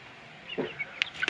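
A few short clucks from two-month-old Bhimavaram Mettavatam chicks, faint and close, with brief sharp chirps toward the end over a soft background hiss.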